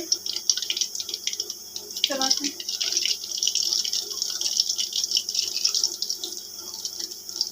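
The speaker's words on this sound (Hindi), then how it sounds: "ऑयल हमारा हल्का सा गर्म हो गया है। इसमें हम कचौरी डाल लेंगे।" Aloo kachori go into lightly heated oil on a low flame, producing a steady, bubbly frying crackle with a brief splash and a dense flicker of small pops throughout.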